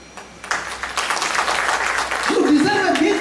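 An audience at a speech claps in applause, a dense patter that starts abruptly and builds and stays sustained, with a voice speaking and cheering over it.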